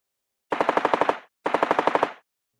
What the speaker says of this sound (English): Gunshot after gunshot.